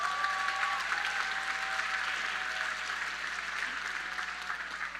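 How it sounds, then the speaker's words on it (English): Steady applause from a graduation ceremony audience at Phoenix High School, dense and continuous clapping heard from a distance without talk, fading slightly toward the end. "So please give your family a big round of applause tonight."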